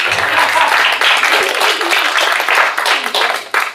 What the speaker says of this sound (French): On peut applaudir Mandy qui a une bonne réponse.